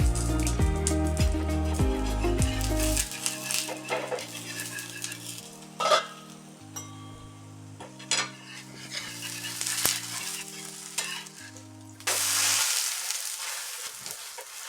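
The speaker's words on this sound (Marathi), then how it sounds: "आपण याला उलटून घेऊ आता." Cabbage thalipeeth sizzles steadily in a pan just after being flipped. The frying stays constant, with occasional utensil clinks, and soft background music plays underneath.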